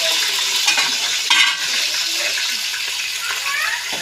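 Chopped bell pepper and onion stirred in a hot frying pan for pav bhaji give a loud, continuous sizzle with scraping stirs, while a voice talks over it.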